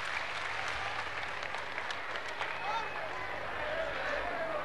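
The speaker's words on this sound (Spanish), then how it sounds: "Recibamos con aplausos." Audience applause at an outdoor public ceremony in Cajuata, La Paz, Bolivia, welcoming Vice President Álvaro García Linera; steady, dense clapping fills the whole stretch at moderate distance with no clear break.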